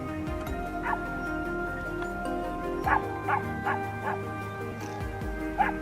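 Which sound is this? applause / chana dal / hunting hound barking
hunting hound barking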